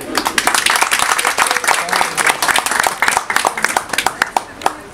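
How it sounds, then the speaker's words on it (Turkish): Audience applause at a welcoming ceremony for a visiting Turkish delegation, many hands clapping in a lively, uneven patter that thins out toward the end. "Ben onlar için de bir alkış istiyorum."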